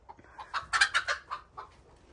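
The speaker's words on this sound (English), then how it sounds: "We got a chicken laying there." Chicken clucking on a small family farm near laid eggs, a quick series of about eight close, soft clucks rising and falling over two seconds.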